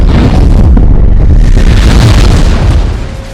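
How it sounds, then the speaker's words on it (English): Loud, sustained boom of an explosion in a science-fiction thriller, a deep rumbling roar that fills the whole clip and fades slightly at the end, with no talk. "realizes the explosion still happens"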